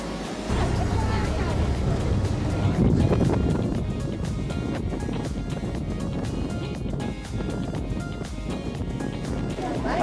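Boat engine drones steadily as the vessel motors toward Catalina Island near Avalon on a gloomy day, with wind and water noise and a voice talking over it.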